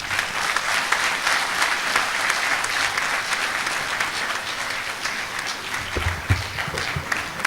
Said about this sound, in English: I think the lecturer deserves a standing applause.